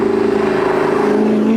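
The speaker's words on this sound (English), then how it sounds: "this car has an Army Tricks valved exhaust on it" An Audi R8 with an Armytrix valved exhaust revs, a loud, close, throaty engine drone that rises steadily in pitch over a short burst.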